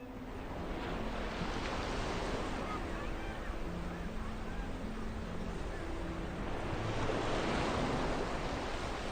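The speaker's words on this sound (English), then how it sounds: "gentle sound of waves." Gentle ocean waves wash in at Turtle Beach, Oman, a steady soft surf with a breezy hiss that holds evenly throughout, swelling slightly toward the end, with no voices.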